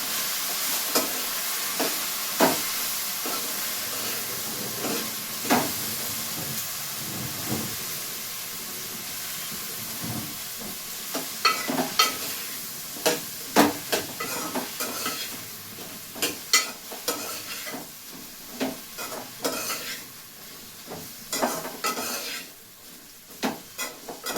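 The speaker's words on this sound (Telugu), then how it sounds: "బెండకాయ వేస్తున్నాం ఫ్రెండ్స్" Okra frying in a pan, a constant hiss of oil with repeated clinks and scrapes of a spoon stirring it, close up and without talking.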